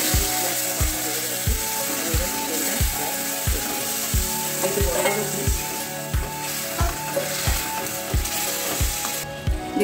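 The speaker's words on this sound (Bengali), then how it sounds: "আমি চিকেনটা মোটামুটি ম্যারিনেট করা এটা আমি কষে দিয়েছি পেঁয়াজ রসুন আদা দিয়ে।" Yogurt-marinated chicken sautés with onion, garlic and ginger for Afghani biryani, sizzling steadily in a pan while a utensil scrapes and stirs in regular, loud knocks about twice a second.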